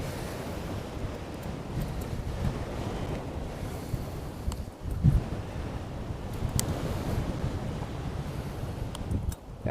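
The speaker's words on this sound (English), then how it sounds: "It's a straight crosswind." A strong crosswind buffets a cyclist riding an exposed road in South Korea. Loud, rough wind roar beats against the microphone in uneven gusts and stays heavy throughout, with one sharper blast midway.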